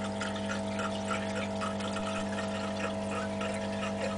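A pump in the sump of a 90-gallon reef tank feeds an algae scrubber, and the water trickles down the mesh back into the chamber, making a steady trickling wash over a constant electrical hum.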